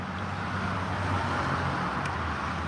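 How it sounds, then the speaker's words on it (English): Road traffic passes outside, heard as a steady, moderately loud wash of engine and tyre noise with no breaks, recorded while sitting outdoors near the road. "Y'all hear the traffic going by."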